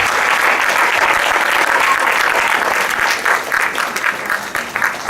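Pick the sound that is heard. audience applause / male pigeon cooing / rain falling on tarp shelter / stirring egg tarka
audience applause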